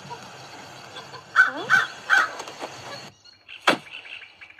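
A bird in a mobile video game caws three times in quick succession, harsh and close, then after a short silence gives one more sharp, higher call.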